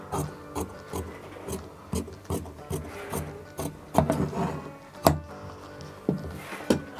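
Scissors cut through fabric for a boat-neck blouse: a series of close, dry rasping snips and rubs, with sharper clicks as the blades close, irregularly spaced over several seconds with no speech.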